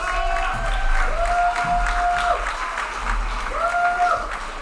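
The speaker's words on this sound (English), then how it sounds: "Another round of applause." Audience applause fills the room at a disability mentoring day kickoff reception, steady and fairly loud, with a few voices and tones rising over it.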